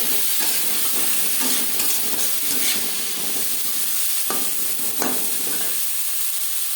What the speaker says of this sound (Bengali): মাছ ভেজে নেওয়া তেলে দিয়ে দেব টমেটো চারটে টমেটো আমি টুকরো করে কেটে নিয়েছি পাঁচটা পেঁয়াজ আমি কুচি করে কেটে নিয়েছি